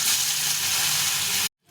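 Fish coated with salt and turmeric fries in oil with a close, steady hiss and sizzle that cuts off abruptly near the end.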